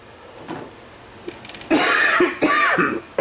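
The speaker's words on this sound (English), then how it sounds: "Excuse my cough, it's part of my cold" Coughing from a man who has a cold, heard as two loud harsh bursts with a faint throat-clearing just before them, close to the microphone in a quiet room.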